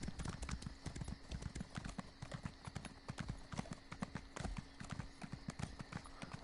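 A steed's hooves clip-clop in a fast, steady rhythm of sharp close knocks in The Elder Scrolls Online, faint overall and alone without voices.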